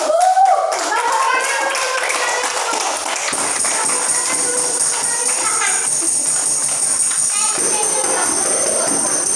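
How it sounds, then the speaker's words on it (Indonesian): A church congregation claps their hands together during a sermon, with a sustained clatter of many hands under loud voices and a ringing tone in the room. "Tepuk tangan dulu, Tuhan Yesus."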